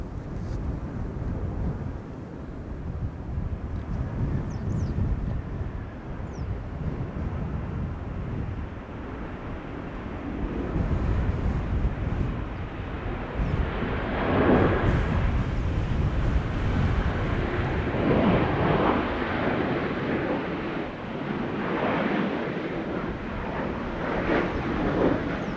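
A 14-year-old Boeing 737-700 airliner arriving at Schiphol Airport from Vienna, a steady, broad jet roar that swells and grows louder in the second half, heard from a distance with wind noise and no talk.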